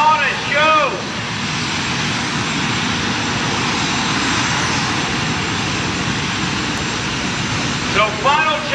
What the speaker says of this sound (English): Make some noise for the Miller Dragster and the Embry-Riddle Jet Dragster.